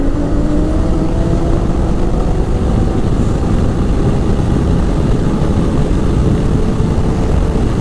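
Ski-Doo Renegade 900 ACE snowmobile at full throttle from a dead stop, a loud, steady engine roar with rising pitch held close and continuous throughout, no voices.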